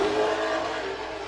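A Spec-D Pro series drift car fires and revs hard at Agassiz Speedway, a loud, continuous engine roar close by with no voices.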